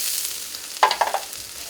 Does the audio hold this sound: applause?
no